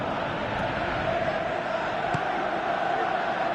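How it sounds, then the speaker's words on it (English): Stadium crowd noise from a PES 17 football match, a steady broad roar with a brief swell of cheering, continuous and even throughout with no voices distinct. "Crowd appreciates good football all round there."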